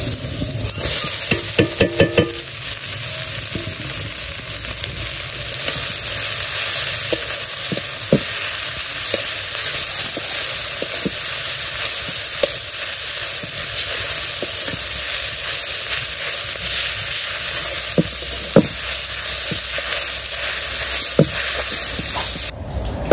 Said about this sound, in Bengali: আমার পেঁয়াজগুলো ভাজা হয়ে গেছে, আমি শাক দিয়ে দিলাম